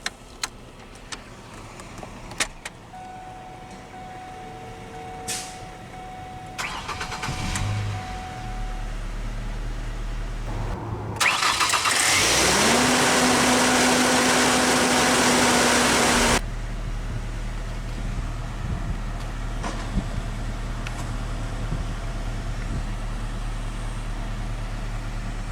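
A 2010 Ford Ranger XL SuperCab pickup with the base 2.3-liter inline-four cranks and fires, then settles into a loud high idle that later drops to a steady, lower idle hum.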